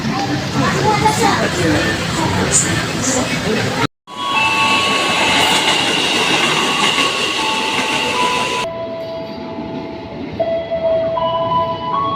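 Commuter train ride between Taman Kota and Duri stations, passing Pesing and Grogol, with a steady loud rumble and clatter of the carriage, a brief cutout, then quieter interior hum with faint tones.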